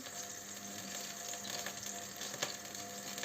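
Young homegrown onion fries in oil in a pan, making a continuous close hiss and sizzle with faint crackles and one brief clatter near the end, and no talking.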